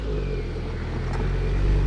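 A Ford Focus RS pulling away on local roads, a low engine rumble that builds slightly in loudness toward the end.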